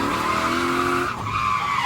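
A BMW E28 with a V8 drifts, its tires skidding in a loud, sustained squeal up close, with the engine droning underneath as the pitch shifts partway through the slide.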